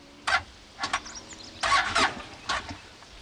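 A CFMoto U10 Pro side-by-side with water in its exhaust cranks and sputters in uneven bursts, several short rough coughs and a longer stuttering attempt, close up, with no voices over it.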